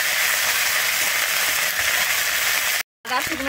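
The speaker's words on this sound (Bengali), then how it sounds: "আমি আদা শুকনো লঙ্কাটা দিয়ে কিন্তু ভালোভাবে একটু ভেজে নেব।" Ginger and dried chili paste frying in mustard oil, a steady close sizzle and crackle, loud and even, cut by a brief silence near the end before the hiss resumes.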